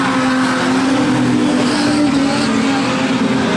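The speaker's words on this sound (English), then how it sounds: "In there too with Travis Hutchison as they go round the hairpin corner" Street stock race cars rounding a hairpin corner at a mountain speedway during a title final, a loud continuous engine drone with rising and falling pitch from several cars close by.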